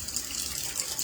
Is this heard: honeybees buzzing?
no